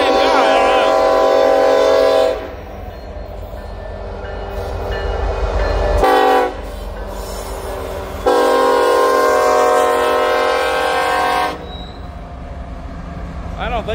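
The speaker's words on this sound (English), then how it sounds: "but because that's a lot of boxcars. Yeah, it's a nice mixed manifest." A long mixed manifest freight of boxcars rolls down a steep grade, with loud rumbling wheels, squealing flanges and a blaring horn that comes in bursts, while people talk nearby.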